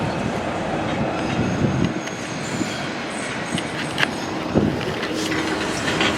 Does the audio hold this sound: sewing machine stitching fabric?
no